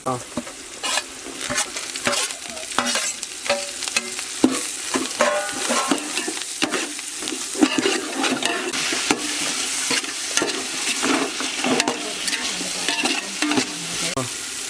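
Curry leaves, mint and coriander sizzle in a hot pan for egg biryani cooked on a balcony, with steady frying crackle and repeated stirring scrapes close to the mic, and no talking.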